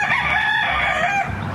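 Wild chickens and a rooster crow in a neighborhood in Old North Sacramento, with a loud close crow drawn out over a noisy outdoor background.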